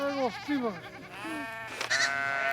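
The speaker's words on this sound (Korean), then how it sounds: "양과 염소들이 다투어 풀을 찾아갑니다" Sheep and goats bleat as they are let out to pasture. Several close, wavering bleats overlap one after another in short bursts.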